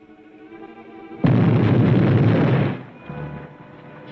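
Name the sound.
explosion beneath a bank, film sound effect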